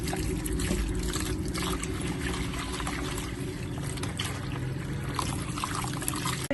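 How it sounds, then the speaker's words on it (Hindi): Water is poured over masoor lentils to wash them, making a steady, continuous splashing trickle close by with no one talking. "सबसे पहले इसको अच्छे से हमने पानी डाल के वॉश कर लेना है।"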